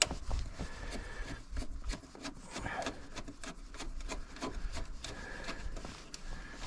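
Screwdriver driving a screw for an LED light install on a 2012 Hyundai Elantra, heard close up as a steady series of soft scraping, rubbing turns with a rhythmic grind.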